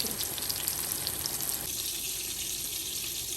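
King fish frying in avocado oil in a pan, Kerala style, a close steady hiss and crackle of sizzling that drops slightly partway through.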